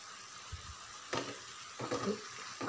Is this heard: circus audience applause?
no